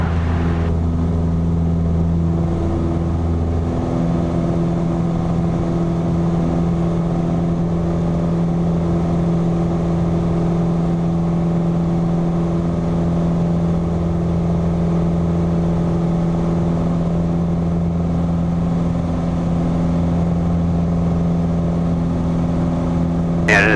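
A small airplane engine holds a loud, steady drone with strong tonal harmonics throughout a takeoff roll, alone and without any talking over it.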